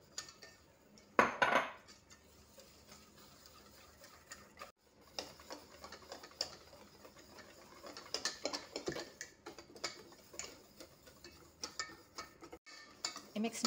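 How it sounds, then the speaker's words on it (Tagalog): Glutinous rice is stirred in a pot, giving scattered scraping and light metallic clinks of a utensil against the pot, quiet and irregular, with a louder clatter early on. "I-mix natin mabuti guys hanggang sa mag-dissolve yung glutinous rice."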